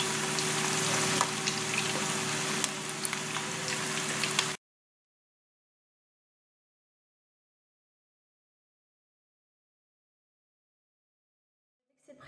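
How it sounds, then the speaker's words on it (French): Minced meatballs plunged into very hot deep-frying oil give a loud, steady bubbling sizzle for about four seconds, then the sound cuts to silence. "Dès que l'huile est bien chaude, il faut plonger les boulettes de viande hachée dans l'huile"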